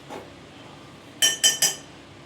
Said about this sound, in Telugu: మీ గిన్నెల సౌండ్ పెద్దగా వస్తుంది